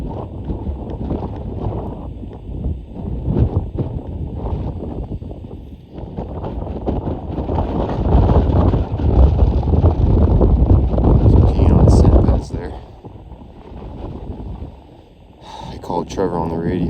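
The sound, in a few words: wind blowing on a hillside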